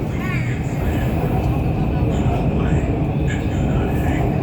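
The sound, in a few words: Shenzhen Metro Line 9 underground train riding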